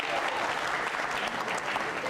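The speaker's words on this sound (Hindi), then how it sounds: "तालियां तो जोरों से बजनी चाहिए।" Sustained applause from a quiz show audience at a Jain social group event, dense and steady with no break across the whole stretch.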